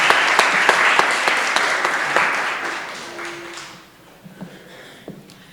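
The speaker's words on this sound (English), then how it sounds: "One more round of applause for everyone." Applause from a congregation at a religious education milestone and coming-of-age ceremony, dense steady clapping that fades out near the end, leaving a few scattered claps and faint room noise.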